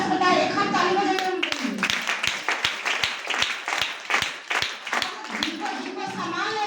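At a DXN marketing plan meeting, a roomful of people claps in a steady rhythmic beat of about a dozen sharp claps, with a voice speaking just before and right after.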